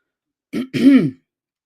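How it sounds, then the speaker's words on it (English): Two quick throat-clearing bursts from post-nasal drip, the second longer and rougher, close to the mic with silence around them. "My coughing is from post-nasal drip."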